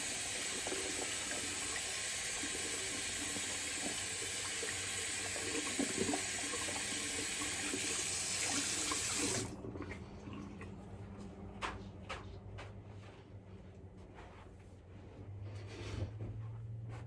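Running tap water rinses a shaving brush under a faucet for about nine seconds, a steady loud rush at a sink, then cuts off, leaving faint drips and small handling sounds.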